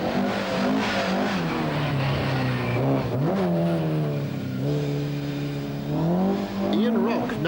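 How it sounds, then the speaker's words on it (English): A 2-litre Ford Escort rally car races at Lurgan Park, its engine revving and droning steadily with pitch rises and dips, under continuous commentary. "we have Trevor Moore in his 2-litre Escort, who is fighting a private war with Philip Young's similar car."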